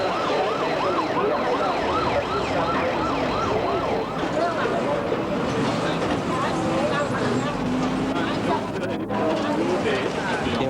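Ambulance siren wailing continuously and loudly, with rising and falling tones over heavy traffic noise, as emergency vehicles head out after an earthquake in the Hunter region around Newcastle.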